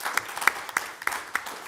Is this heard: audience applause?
yes